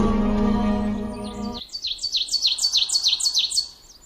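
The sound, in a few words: koel bird singing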